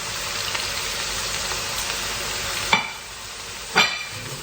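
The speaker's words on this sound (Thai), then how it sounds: "เราคนเขาด้วยนะคะ เพื่อเขา สุกทั่วถึงนะคะ นี่ค่ะเห็นนะคะความร้อนของน้ำมันนะคะ" Soybeans fry in hot oil, giving a steady, close sizzle throughout, broken by two sharp clinks as they are stirred in the pan.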